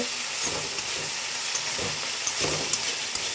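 Sauce being stirred into fish frying in a pan, the pamphlet (pomfret) chilli-fish style, with a steady close sizzle and periodic scraping stirs of a spatula every half second or so.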